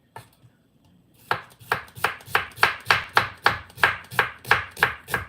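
Onions being chopped with a knife on a board at close range, about a dozen crisp, evenly spaced chops in a steady rhythm after a quiet start, with no voices.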